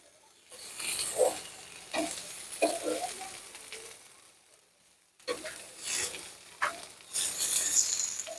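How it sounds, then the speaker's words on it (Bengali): Fish frying in a pan without oil, giving bursts of close, crackling sizzle and scraping stirs that swell and fade with short quiet gaps between them. "সত্যি আমি ভয় ভয় করে ভাজছিলাম, কিন্তু মাছ ভাজাটা সত্যি খুব সুন্দর হয়েছে।"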